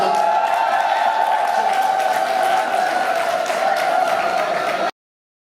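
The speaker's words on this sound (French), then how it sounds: "qui a fait jaillir une pluie d'applaudissements" Crowd applauding at the official launch of a festival, dense continuous clapping under a loud sustained musical tone, cutting off abruptly before the end.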